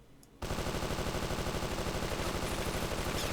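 A Type 2 submachine gun in Men of War: Assault Squad 2 firing one long, steady automatic burst with an evenly spaced rapid rattle. It starts suddenly after a short quiet moment and stays loud to the end.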